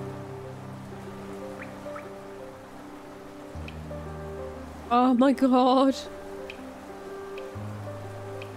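Soft, steady rain patters in the City of Tears in the video game Hollow Knight, mixed with sustained music tones; partway through a person speaks briefly and loudly over it.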